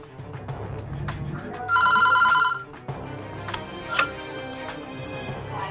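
A telephone bell rings in one loud burst of about a second, cutting through a quiet room tone with faint ticks and small knocks before and after, during a call to a hospital in a Kannada short film about police.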